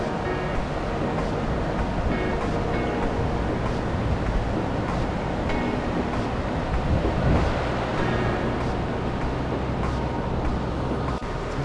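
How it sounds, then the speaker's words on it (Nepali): The Sunkoshi river rushes past in a constant, loud wash of flowing water, deep and even throughout, with no talking. "सुनकोशी खोला"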